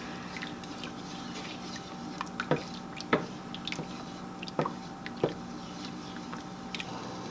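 Jelly mixture made from yard weeds bubbling at a full boil in a pot, a steady bed of seething with irregular soft pops and plops bursting through, moderately close and without talk.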